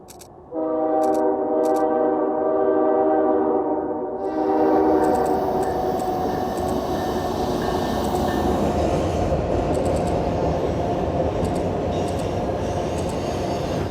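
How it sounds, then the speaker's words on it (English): A train's horn blares in steady tones, then the loud, rumbling roar of the train takes over as it rounds a corner in the mountains, rolling in close and continuing to pass. "We're gonna see if we can get a shot of the train coming right around that corner there"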